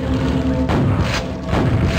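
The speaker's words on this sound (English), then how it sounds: "he's close enough to shoot you in the face with a grenade" Grenade blasts in Quake hit as two loud, deep booming thuds about a second apart, each one heavy and low with a short rumbling tail.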